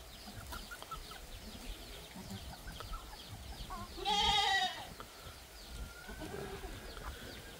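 Goats on a farm bleat once, a short loud call standing out from a quiet yard, with faint bird chirps and rustling around it.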